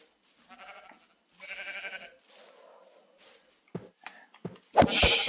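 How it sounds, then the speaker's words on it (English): Blocky video-game sheep bleating in a Minecraft-style world, a few separate bleats with pauses between them, followed by a sharp louder burst at the end, no talking. "Sheep."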